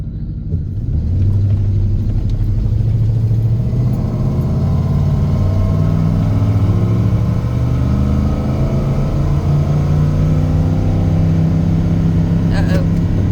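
A truck engine with a cold transmission that won't shift up revs and rumbles loudly and close by, its pitch climbing and holding over several seconds.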